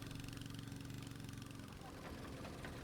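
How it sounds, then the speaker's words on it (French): A boat engine running an air compressor that feeds divers' hoses, a steady close low chugging rumble that continues unbroken throughout. "Leur masque est relié par un long tuyau à un moteur qui envoie de l'air comprimé."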